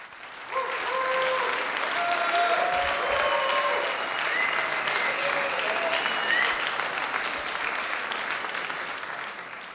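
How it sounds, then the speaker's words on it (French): Steady applause from an audience in a hall during the podium ceremony of a French indoor championship, moderately loud and continuous from just after the start, with faint voices mixed in. "je voudrais qu'on les applaudisse"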